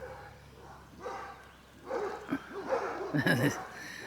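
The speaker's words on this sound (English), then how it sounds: "That's why dogs are barking." Several dogs bark at a middle distance at neighbours passing on the way to an allotment, the yaps growing busier toward the end, mixed in with a faint voice and outdoor noise in rural Portugal.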